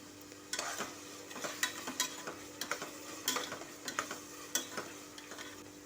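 Onions and tomatoes for chicken biryani being sautéed in a pan: repeated close scraping and clattering strokes in an uneven rhythm over a low sizzle, with no voices.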